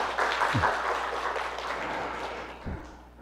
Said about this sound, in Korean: 여러분 환영의 박수를 좀 부탁드리겠습니다